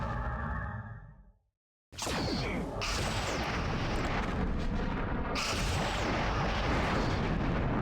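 An enemy vessel explodes in Star Trek: Bridge Commander. A fading tonal hum drops into a brief silence, then a huge blast erupts and rolls on as a loud, sustained crackling roar with a whooshing swell partway through.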